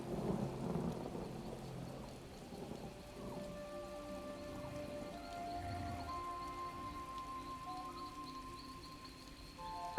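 Rain pours and thunder rolls in the video game The Elder Scrolls Online, a low rumble swelling at the start over a constant hiss of rainfall that continues to the end.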